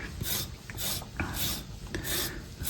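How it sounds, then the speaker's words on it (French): Lemon peel being zested with a zester tool, light rhythmic rasping strokes repeating about every half second, close and fairly soft, with no talking. "on prend bien le zeste du citron, bien sûr"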